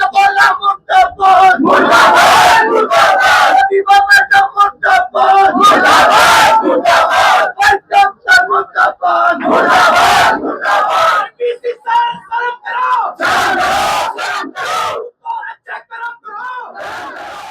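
A large protesting crowd at a university campus chants slogans loudly in unison, with repeated bursts of shouting voices rising and falling in rhythmic waves throughout.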